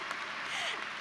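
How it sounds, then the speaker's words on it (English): A diploma ceremony audience claps together in a dense, even burst, a brief wash of many hands heard without talk. "And I invite you to clap along."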